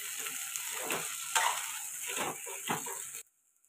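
Egg noodles tossed with Maggi masala in a hot pan sizzle steadily while a utensil scrapes and stirs in repeated strokes, then the sound cuts off abruptly.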